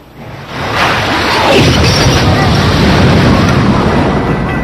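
A huge underwater-like torpedo explosion against a battleship swells into a long, roaring rumble that stays loud and sustained for several seconds.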